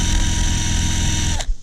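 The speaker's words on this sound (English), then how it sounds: "get a eraser wheel, stick it to your drill, and have at it" A drill spins an eraser wheel against a Dodge Dakota fender to strip pinstriping, a steady loud whirring grind that runs continuously before cutting off abruptly near the end.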